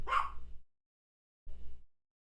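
Dog in a home recording studio giving a sharp, close bark, then a second of silence before a shorter, muffled low woof or whimper.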